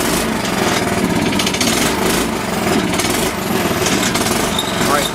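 A dune buggy engine idling as it warms up, a loud, rapid, rattling chug that holds steady throughout, with voices faintly under it.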